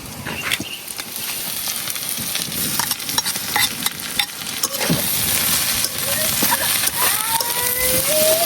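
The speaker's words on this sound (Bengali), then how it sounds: "এখন এই পেঁয়াজ রসুনের মাঝে শাকটারে কিছুক্ষণ বাদ দিলাম" Jute greens are stirred into sizzling fried onion and garlic in a village kitchen, with continuous frying crackle and repeated scraping stirs, loud and close, as a voice talks over it.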